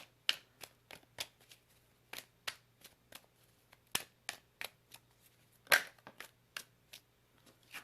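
Tarot cards snap and flick sharply, about twenty crisp, close clicks in an uneven rhythm as the deck is shuffled and cards are pulled, with no talking.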